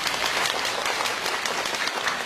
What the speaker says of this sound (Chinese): 我们再一次用热烈的掌声对他们的到来表示感谢